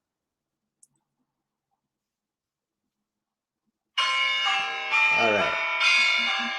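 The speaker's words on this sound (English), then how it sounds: "let me go ahead and play the bell tower" Bell tower chimes ring out as a quiz signal on a comedy talk show, starting abruptly after near silence and sustaining a bright, ringing peal with layered strikes; a brief voice comes in over the bells.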